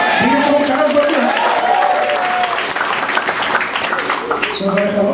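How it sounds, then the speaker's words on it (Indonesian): Congregation applauding in a church service, loud sustained clapping from many hands with voices and a sung or called-out line running over it throughout. "Beri tepuk tangan buat Tuhan"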